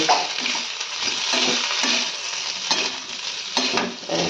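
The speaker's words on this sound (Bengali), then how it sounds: "এই যে রেডিমেড ফুচকাগুলো আছে ওগুলো কতগুলো ভেজে দিলাম" Ready-made fuchka puri shells frying in oil in a pan, a steady close sizzle with light stirring and scraping throughout, no talking.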